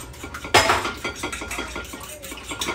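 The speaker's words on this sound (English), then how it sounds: "I'm gonna go ahead and just whisk these eggs up." Eggs whisked in a bowl with a fork or whisk, producing quick, rhythmic clinks and scrapes against the dish that begin with one sharp knock and continue at close range.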